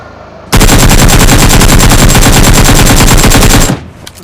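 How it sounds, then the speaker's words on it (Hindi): Loud, rapid automatic gunfire from the PUBG battle royale game fires a continuous burst of about three seconds with an even rhythm of shots, close and dominant. "मैं उन पर फायर करता हूँ।"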